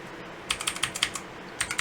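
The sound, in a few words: key clicks of a Redragon K552 mechanical keyboard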